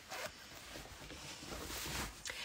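Zipper on the side of flat-belly shapewear trousers being pulled, a close, steady raspy rasp running for a couple of seconds with small catches near the start and end, no talk.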